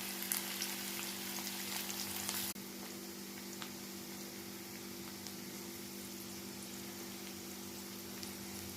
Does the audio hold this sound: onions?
yes